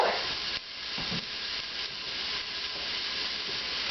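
Onions and pressed garlic sautéing in a soup pot produce a continuous soft hiss and sizzle, with a stir scrape near the start and no talk.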